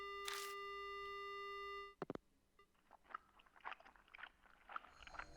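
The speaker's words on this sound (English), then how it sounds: "The only sound I hear is a dial tone" A telephone in the horror game Death Mark gives a steady electronic dial tone for about two seconds, then cuts off abruptly, followed by faint crunching, smacking noises.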